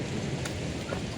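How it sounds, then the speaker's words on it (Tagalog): Light drizzle falls outdoors near a 7-Eleven, a soft steady hiss of fine rain throughout, with no voices and only faint background noise. "Pero hindi naman ganun kalakas yung ambon."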